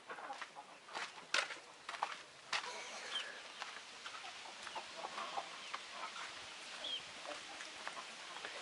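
Backyard hens cluck faintly and intermittently near a goose pool, soft irregular calls scattered over a low outdoor background with no clear talk.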